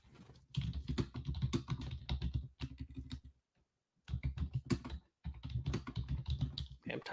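Rapid, steady keystrokes clatter on a computer keyboard in dense bursts, close and clear, broken by a couple of short pauses.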